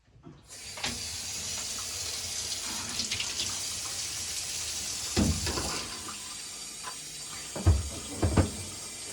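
Tap water runs steadily into a sink while a dog's paws are washed, with a few soft bumps and splashes from the handling and no voices.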